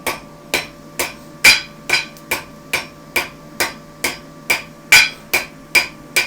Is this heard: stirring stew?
no